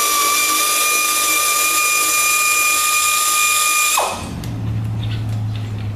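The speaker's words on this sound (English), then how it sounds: "Now I'm going to put an impact on it." An impact wrench spins a riser bushing bolt on a 2015 Harley Street Glide, a loud high whine lasting about four seconds before cutting out to a lower rattling rundown.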